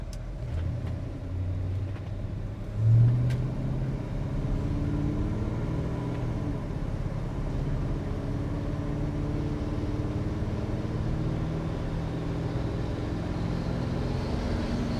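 A 1981 Chevrolet C10 pickup driving with the windows up and air conditioning on, its engine a steady low rumble from inside the cab as it gathers speed, with a brief thump near the start.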